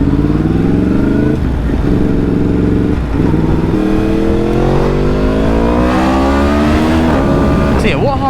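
A Yamaha MT-10 motorcycle engine revs hard and loud up close, pitch climbing through repeated gear pulls with brief dips between shifts over about eight seconds.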